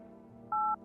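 A single short dialing tone from a telephone keypad beeps once in a video game, clean and steady, over a quiet low background hum.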